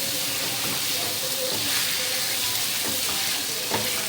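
Chicken kabab pieces frying hard over high flame for kabab Manchurian, a dense steady sizzle and hiss filling the whole stretch, close and loud, with faint scrapes of a spoon stirring.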